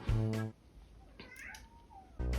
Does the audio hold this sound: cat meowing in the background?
yes